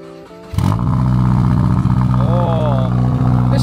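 Subaru VB WRX with an aftermarket Valvetronic exhaust and burnt tips, starting up and settling into a loud, steady idle close by, with a brief rev in the middle and people talking over it.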